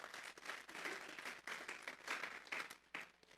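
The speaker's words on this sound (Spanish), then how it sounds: "Vamos a darle un fuerte aplauso pues al Señor." Applause from a church congregation, a steady dense patter of many hands clapping at moderate distance, with no talking over it.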